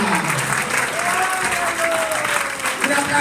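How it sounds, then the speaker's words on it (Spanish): Church congregation applauding, a steady crowd clapping wash with voices calling out over it and a pastor's voice rising through the noise. "Un aplauso para el Señor Jesús."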